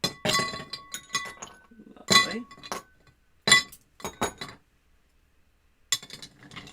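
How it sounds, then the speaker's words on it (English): Ice is dropped into a cocktail mixing glass already holding the ingredients, giving several bright clinks and rattles in separate bursts with pauses between, close and fairly quiet, and a brief spoken word in between. "Get our ice in there."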